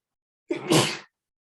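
A single sharp sneeze from a man, close and fairly loud, a quick inhale bursting into a short explosive blast that fades within half a second, alone in silence.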